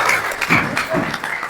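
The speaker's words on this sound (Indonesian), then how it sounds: "kasih tepuk tangan dulu" Classmates in a classroom give a short burst of applause, loud, close clapping lasting about a second and a half.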